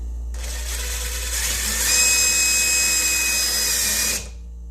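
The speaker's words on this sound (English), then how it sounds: "So what I'm going to do is drill through" A power drill bores through the corner of a homemade counterweight, a steady close whine that rises in pitch and strain midway, then cuts off abruptly, with a low hum underneath.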